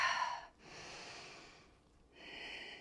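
Slow, deep breaths during a yoga flow, one strong airy exhale followed by softer drawn breaths, close and quiet with brief pauses between them.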